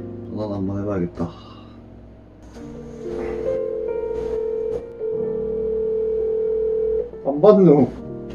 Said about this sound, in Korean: 전화 한번 해봐야겠다.